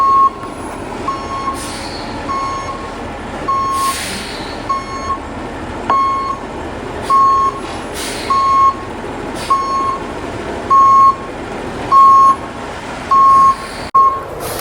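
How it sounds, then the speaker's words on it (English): A concrete truck backs in on a flood-prone building site, its reversing alarm beeping in a steady, evenly spaced series over a loud diesel rumble, with short hisses of air brakes. "And here comes truck number 2."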